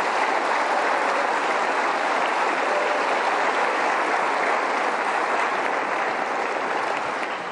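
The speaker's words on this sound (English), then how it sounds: "Please give them a big round of applause." A large audience at the 2024 West Virginia State of the State Address applauds, a dense, even roar of clapping that stays loud and constant throughout and tapers slightly at the very end.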